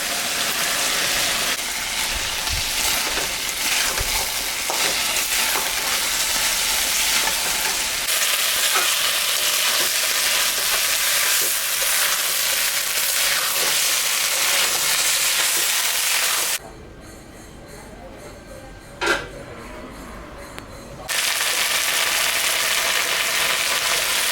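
Small fish frying in a pan for chachchari, a loud steady hiss and sizzle with crackling spatter that drops briefly quieter then returns at full intensity.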